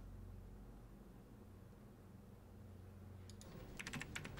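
Quiet keyboard typing from the Phantasmagoria 2 video game comes in as a quick cluster of light clicks near the end, over a faint steady hiss, with no talk.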